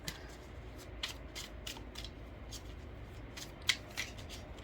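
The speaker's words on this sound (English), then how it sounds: "let me just pull some more cards" A deck of tarot cards being pulled and shuffled, with close, soft riffling and papery flicks in quick irregular bursts over low background noise.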